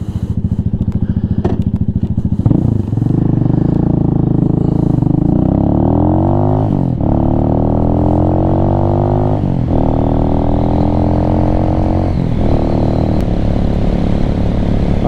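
A Venom Ghost Chopper 250 motorcycle on cast wheels with street tires idles, then revs and pulls away, its engine note climbing through several gear changes and dropping between shifts, loud and close throughout.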